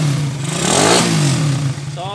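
A tuned Suzuki Raider 150 motorcycle engine with an aftermarket exhaust revs up close, rising to a loud, rough peak and falling back to a throbbing idle, with a voice briefly heard at the end.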